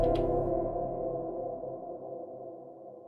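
An Elektron Digitone synth pattern played through a Strymon NightSky time-warped reverb sounds as a sustained, layered tonal chord that blooms and slowly fades into a long, smooth reverb tail, alone without speech.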